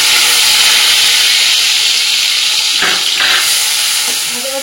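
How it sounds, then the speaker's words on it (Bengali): Chopped onions fry in hot oil and ghee, giving a loud, continuous, close sizzle with a couple of brief stirring scrapes toward the end. "তেল আর ঘিটা দেখো গরম হয়ে গেছে, এবার 3টে পেঁয়াজ যে আমি চপ করে রেখেছিলাম সেটা দিয়ে দেবো।"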